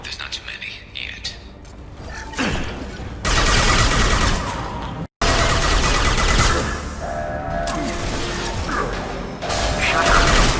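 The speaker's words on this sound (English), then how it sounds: "Find the large shutters and seal them." In a video game, heavy metal shutters grind, clatter and slam shut amid loud mechanical ratcheting and crashing, with bursts of gunfire mixed into a dense, noisy battle scene.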